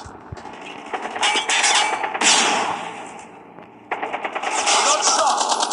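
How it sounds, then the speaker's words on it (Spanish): Rapid bursts of AK-47 automatic rifle fire in a Call of Duty match, loud and sustained with brief pauses between volleys, alongside game effects and players talking over it. "Yo no sé manejar la AK-47"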